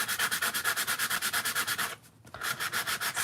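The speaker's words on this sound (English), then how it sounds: "get all of the fine little paper dust that is being generated with the sanding paper." Sandpaper scrubs rapidly back and forth across two-tone cardstock with a white core, a close, raspy rhythmic rubbing of quick even strokes that pauses briefly before resuming.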